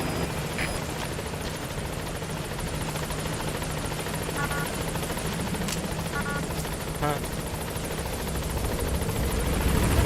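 Support helicopter from the video game Metal Gear Solid V approaching a landing zone, a steady rotor drone with faint blade chop that holds level through the whole stretch and swells slightly toward the end, with sparse game effects layered over it.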